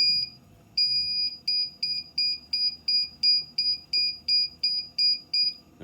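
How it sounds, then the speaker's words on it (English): A Tormach CNC mill sounds its E-stop alarm buzzer, a shrill pulsing electronic tone repeating rapidly in a steady rhythm after a brief pause, loud and close, with no talking over it. "if you are in the middle of an operation and then E-stop, you get the buzzer."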